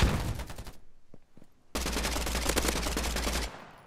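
A heavy automatic weapon in a free online first-person shooter fires a short burst, pauses, then unleashes a long, loud, sustained volley of rapid shots, with no talking.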